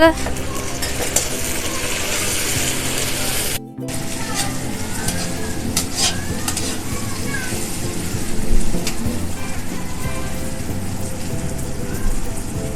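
Tomatoes stirred into fried onions in a pan for an okra sabzi make a steady, close sizzle with spoon scrapes, with a brief cut partway and a louder stir burst later on.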